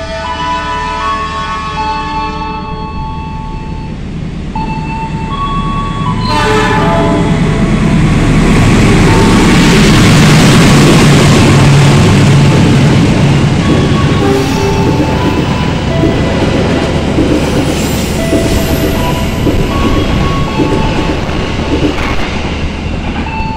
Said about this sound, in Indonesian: itu tadi kereta api Harina sudah melintas stasiun Cirebon Perujakan menyusul Tegal Bahari